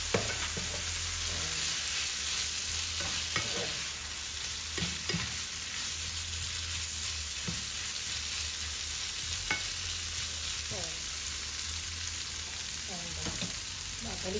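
Bitter gourd (ampalaya) sautés in a pan for a Filipino egg dish, giving a steady close sizzle with occasional scrapes and stirring clatter, no talking.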